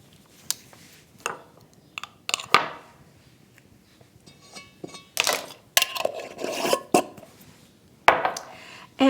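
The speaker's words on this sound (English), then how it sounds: "I'm just going to stir this up a little bit, kind of mix those dry ingredients" Spoon scraping and clinking against a bowl while sprouted einkorn flour and other dry ingredients are mixed, a series of short, close, irregular taps and rubs with quiet gaps between them.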